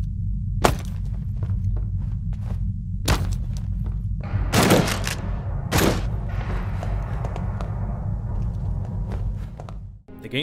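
Several sharp, loud gunshot bangs from the video game This War of Mine ring out at irregular intervals over a low rumbling background, with a cluster of heavier bomb blasts midway.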